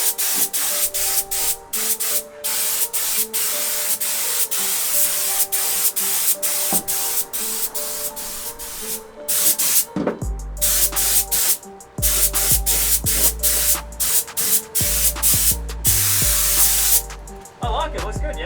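Red pearl paint sprayed onto a racecar's interior, a steady close hiss that runs nearly unbroken, stopping briefly around the middle, with background hum and scattered clatter.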